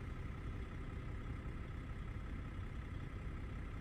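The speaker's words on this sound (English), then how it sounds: "About how much fuel the truck burns sitting idle." A heavy truck's diesel engine idles steadily in American Truck Simulator, a continuous low rumble held at an even level with no voices over it.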